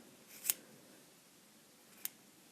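Scissors trim a yarn pom-pom with two crisp, close snips about a second and a half apart, quiet between them.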